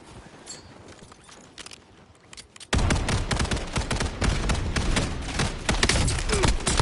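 Gunfire in the Warzone video game: after a quieter stretch, a loud, dense burst of rapid shots starts near the middle and keeps going, a close and sustained exchange of fire.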